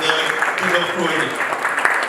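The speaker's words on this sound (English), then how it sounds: "Please give a round of applause for Richard." Audience at a Croydon business association meeting applauds a speaker, a brief burst of many hands clapping, fairly loud and close, with voices talking over it.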